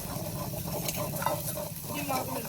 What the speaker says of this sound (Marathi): आता एक वेळ मस्त परतून घेऊ